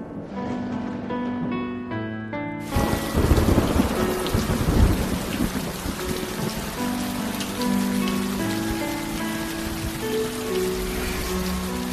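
Loud thunderstorm with heavy rain in a Chinese fantasy drama scene, a sharp thunderclap breaking in after a quiet start, followed by steady dense downpour and rumbling, with no talk.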